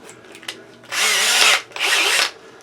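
A power drill fitted with a rotozip cutting bit, as used for cutting sheetrock holes, whines loudly in two sustained bursts close by, separated by a short pause.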